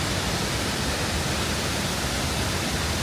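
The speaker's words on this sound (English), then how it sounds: "That is the waterfall." Ouzoud Waterfalls in Morocco pour with a continuous, dense roar of falling water, loud and unbroken throughout with no other sounds.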